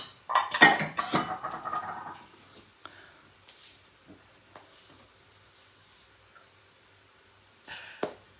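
A utensil stirs pumpkin and lentil soup with capsicum in a pot, giving a short burst of scraping and clinking at the start, followed by sparse soft taps and a final clink.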